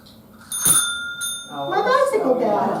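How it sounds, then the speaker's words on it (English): A small bicycle bell rings in a quick double chime with a bright metallic ring that lingers briefly before a voice starts talking over the fading tone. "my bicycle bell"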